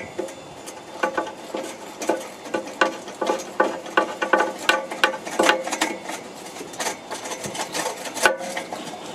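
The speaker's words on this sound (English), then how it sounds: "So we're just going to take these bolts off here." Bolts being loosened and removed from the exhaust of a Fiat 500, with a tool clicking and ratcheting in quick, irregular bursts, close by and with no speech.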